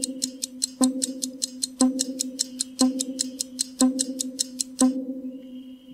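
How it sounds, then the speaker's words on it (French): A clock ticks steadily as a countdown, with rapid regular ticks and a stronger accented beat about once per second, close and clear, stopping abruptly near the end with no voices. "un tic-tac"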